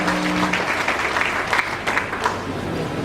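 Loud, dense applause fills the hall at a PNCR party congress, a sustained crowd of clapping hands that holds steady for a few seconds with no one speaking over it.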